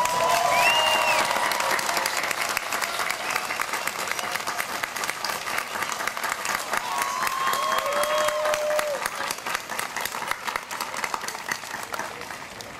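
Audience at a Shenandoah University graduation ceremony in Winchester applauding and cheering, steady dense clapping from a large crowd that fades slightly toward the end, with a few whistles.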